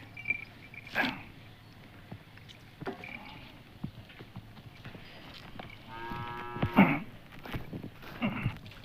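A bull gives one drawn-out low moo near the end, amid splashing water as its feet are washed, scattered knocks and hoof clatter nearby.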